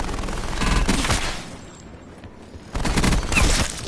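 Micro MG gunfire in the Blackout video game comes in two loud bursts of rapid automatic shots, with a quieter gap between them.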